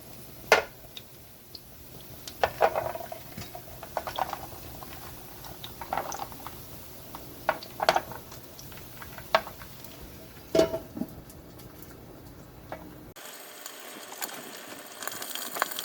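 Clams cook in a covered pot, giving a quiet bubbling simmer with scattered small clicks and ticks from the lid and shells, faint and close.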